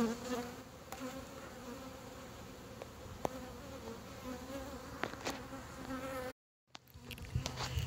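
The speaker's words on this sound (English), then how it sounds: "I wanted you guys to see how pretty these bees are." Honey bees from a huge spring colony buzz densely around an opened hive, a close, steady hum that cuts out briefly near the end before resuming.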